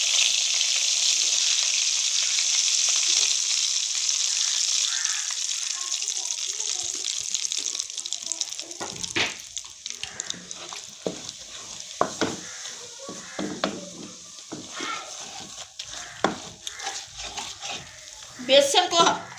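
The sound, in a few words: gram flour (besan) roasting and being stirred in a pan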